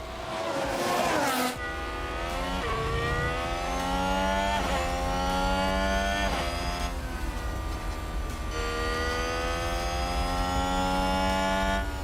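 Ferrari Formula 1 car engine screaming at Monza in F1 Manager 2022, a loud, sustained high-revving wail with rising gear-shift sweeps and brief dips between upshifts, continuous throughout.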